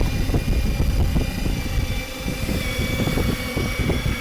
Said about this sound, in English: I got about 2 knots speed with a rechargeable electric drill.